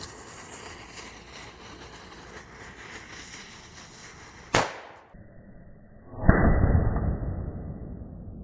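Homemade cannon firing a test shot, one sharp loud blast with a quick decaying tail, followed by a second burst and a noisy, hissing rush that lingers for a couple of seconds over steady outdoor background noise.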